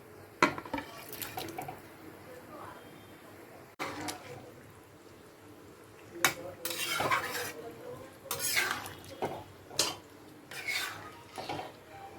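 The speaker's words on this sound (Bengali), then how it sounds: "ঝোলটা ফুটে এসছে এবার ভেজে রাখা ডিমটা আর ফুলকপিটা দিয়ে দিচ্ছি" Fried duck eggs and cauliflower go into a bubbling Bengali curry, with irregular clattering of a utensil against the pot, wet splashes and stirring scrapes, fairly close and intermittent.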